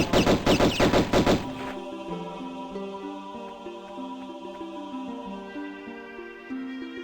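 Rapid burst of gunfire from Tomb Raider 1 Remastered, a loud rattling volley of about a dozen shots lasting under two seconds, then a ringing, fading tail with game ambience and no talk.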